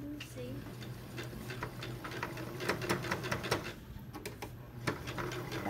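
A sewing machine stitching through the layers of a folded neckline, rapid ticking bursts of needle strokes starting and stopping, heard close up under quiet room noise.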